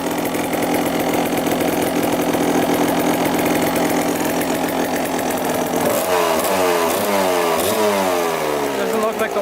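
A cheap dirt bike's small single-cylinder engine running loud and close on a test ride, a rough buzzing drone that shifts midway into rising and falling revs as the throttle is worked.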